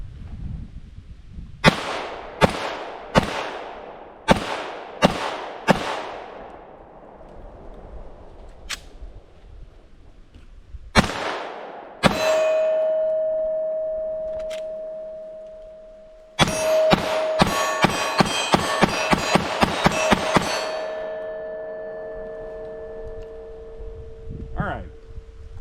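A pistol fitted with a CAA MCK conversion kit fires a series of sharp, loud shots, first spaced singly, then a rapid string, with mechanical clanks between and a ringing tone after.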